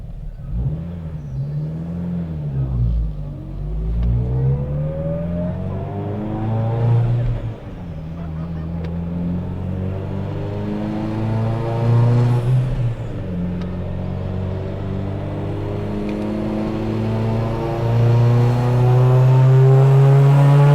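A tuned Mitsubishi EVO 8 with Kelford 276/274 cams and a Haltech 1500 Elite ECU, running on 93 pump gas. Its engine rises and falls through several revs, then climbs steadily toward the rev cutoff, loud and close with a whirring drone.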